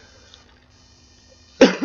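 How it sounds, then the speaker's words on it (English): A single person gives a short, sharp cough burst near the microphone, loud against a quiet background with a faint hum. "Excuse me, coughing away."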